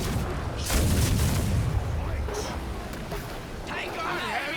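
A pirate ship battle in the game Vendetta - Curse of Raven's Cry: cannon booms and gunfire rumble through a dense battle din, while voices shout over the fighting.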